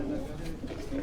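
Misse pigeons cooing in a loft, soft repeated low coos layered under nearby conversation and background noise.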